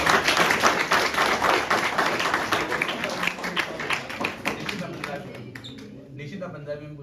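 Enthusiastic audience clapping at a Hemu Kalani martyrdom day memorial event in Bikaner, loud and dense at first, then thinning into scattered claps as it fades.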